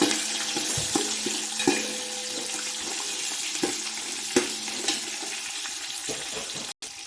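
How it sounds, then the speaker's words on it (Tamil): Small shallots sautéing in hot oil for sambar rice, a soft steady sizzle with scattered spoon scrapes and taps against the pan, close and fairly quiet. "சின்ன வெங்காயம் சேர்த்து சின்ன வெங்காயம் நல்லா வதங்கி வராது வெயிட் பண்ணுவோம்."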